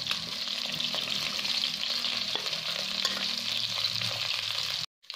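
Chicken balls fry in hot oil in a pan, giving a dense, continuous close sizzle with faint stirring, steady throughout until a brief cut near the end, with no voices.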